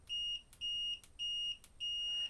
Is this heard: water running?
no